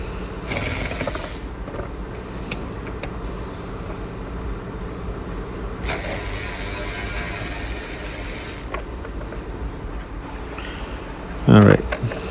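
A ratchet clicks in bursts while a bolt is loosened during a brake master cylinder job on a Toyota Corolla 1.8, with a sharp metallic clunk near the end and faint background noise between the bursts.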